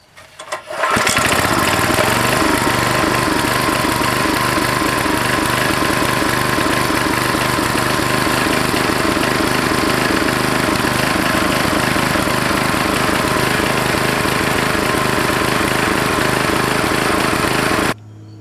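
A Craftsman 5 hp 2400-watt portable generator engine starts up and runs steadily at a constant, loud drone with a rough mechanical chug, close by, until it cuts out near the end.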